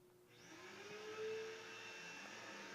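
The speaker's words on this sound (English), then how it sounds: "And a vacuum." A vacuum cleaner runs steadily nearby, a loud whirring motor hum that rises in as it starts and holds a constant drone with a slight pitch swell partway through.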